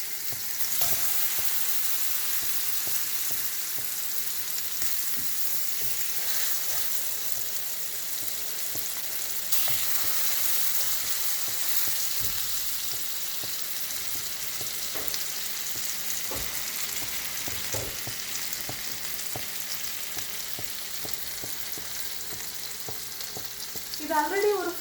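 Pineapple fries in butter on a tava with a loud, steady sizzle and crackle held close for the whole stretch, occasionally stirred or pressed with scraping touches, with no talking.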